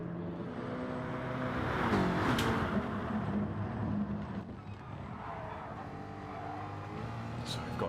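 Jaguar, BMW and Ford Mustang race cars roar in a Gran Turismo race at the Red Bull Ring, engines droning and shifting pitch together under continuous commentary.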